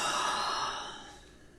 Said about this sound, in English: Let's take another deep yawn and a stretch.